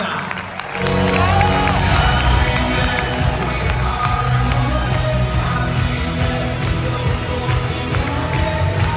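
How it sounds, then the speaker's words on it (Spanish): An audience gives Dani Anglada a strong, continuous round of applause, dense clapping with some cheering swelling quickly after a short pause and holding steady at full volume. "Pido un fuerte aplauso para Dani"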